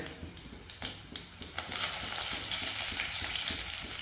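Curry leaves hit hot coconut oil with cumin seeds and dried red chilies; after a few light clicks and taps, a bright, dense crackling sizzle bursts up and holds steady close by.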